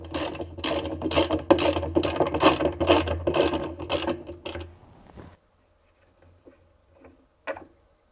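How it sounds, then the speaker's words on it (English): A ratchet turns out the bolt holding the pulsator of a Samsung WA456DRHDWR/AA top-load washing machine, giving fast, loud, evenly spaced clicks for about five seconds before it stops, followed by a few faint, soft knocks. "Now remove the bolt."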